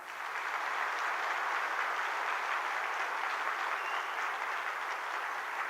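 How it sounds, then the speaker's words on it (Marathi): Sustained applause from a public rally crowd in Maharashtra, steady dense clapping at even loudness throughout with no pauses. "तुम्ही जोरदार टाळ्या वाजवा"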